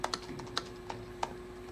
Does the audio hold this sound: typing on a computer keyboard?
yes